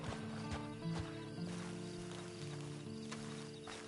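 A horse in the Red Dead Online video game snorts and shifts with soft hoof clops over a low ambient game soundtrack, a steady close bed of sound with a few brief sharper hits.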